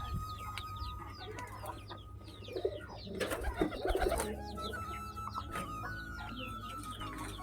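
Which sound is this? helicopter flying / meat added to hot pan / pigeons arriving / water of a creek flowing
pigeons arriving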